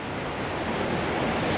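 Ocean waves wash steadily onto a beach with rocky stretches and shells underfoot, a continuous close surf roar mixed with wind noise and no voices.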